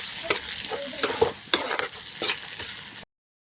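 Chopped tomatoes and dried fish stirred in a hot frying pan give off steady sizzling with several sharp spoon scrapes against the pan, close and fairly loud, ending abruptly in silence.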